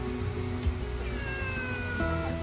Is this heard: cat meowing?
yes